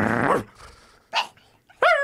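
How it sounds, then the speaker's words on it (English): Dogs let out a growly bark, then a few faint yips, then a sharp, loud bark at the end, close by and spaced apart with quiet gaps between them. "He's making the dogs bark."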